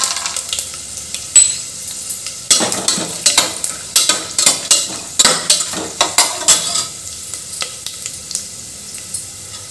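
Peanuts fry in a pan with garlic and red chili while a utensil scrapes and clinks in a quick, regular stirring rhythm over a continuous close sizzle.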